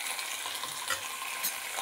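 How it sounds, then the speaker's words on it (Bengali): Chicken pieces with potatoes and spices sizzle and fry in a pan as they are stirred, a soft continuous crackling hiss with small scraping stirs, heard alone with no talk. "এইবার সমানে কষাবো মাংসটাকে, আলুর সাথে মাংসের সাথে মশলা দিয়ে একসঙ্গে সব কষাবো।"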